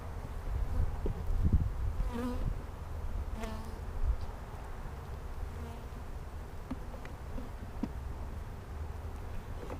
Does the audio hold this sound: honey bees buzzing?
yes